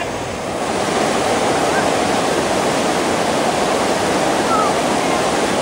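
Creek water rushes steadily and loudly, a broad continuous wash of flow close by, with some wind buffeting on the microphone and no clear voices.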